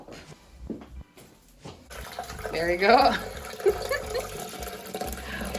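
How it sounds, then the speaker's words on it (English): Water pours into the tank of a Sage Barista Express espresso machine, a brief splashing fill with a voice speaking nearby. "The next thing is to fill with water."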